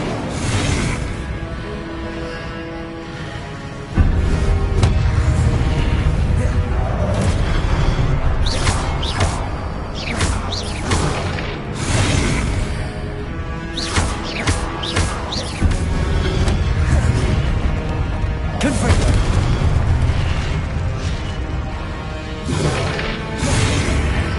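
Spell blasts in Hogwarts Legacy burst out one after another as loud booms, crackling whooshes and crashing impacts over a dense rumbling game backdrop, with repeated sharp transients across the stretch.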